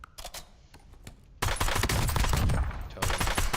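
Rapid automatic gunfire from a flip-mag rifle in Warzone, a few scattered shots followed by a loud, sustained burst of close, dense firing that runs to the end.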